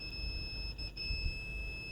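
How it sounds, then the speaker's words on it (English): A multimeter's continuity beep sounds as a steady, unbroken high tone while probing a coil to ground on the board of an HP 250 G6 laptop with a shorted output and no power, over a loud low hum. "It is beeping to ground."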